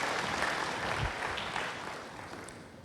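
Church congregation applause during a sermon, a soft, fairly distant patter of many hands clapping that gradually tapers off.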